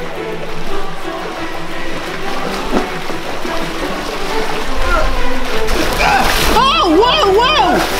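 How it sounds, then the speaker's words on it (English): Constant splashing and sloshing water being thrown into boats, with excited children's voices and shouting rising over it toward the end. "Morgan's trying to fill Martin's boat with water"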